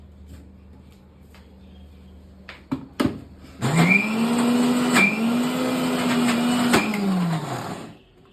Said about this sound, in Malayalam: ഞാൻ ഉഴുന്ന് അരയ്ക്കാൻ പോവാണേ